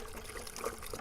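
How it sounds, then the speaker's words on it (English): Water poured from a jug into the radiator of a Miller 250DX TIG welder, a faint, steady trickling and splashing with no talk over it. "maybe somebody wants to actually see me put in the water"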